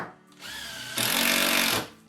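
A power drill drives screws into wall boards on a stud wall being prepared for tiling, one short whir and then a longer, louder whine at full speed before it stops, heard up close with no talking.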